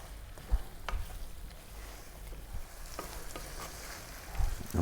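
Lamb sizzles and fries in a pan over medium heat while being stirred around, a constant crackling hiss broken by occasional scraping thumps of the utensil against the pan, close and fairly loud.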